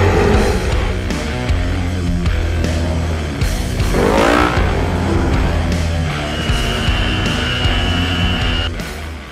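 Off-road vehicles run along a dirt trail, their engines roaring loudly and continuously nearby, with revving surges, a passing swell midway and gritty tire noise over rough ground.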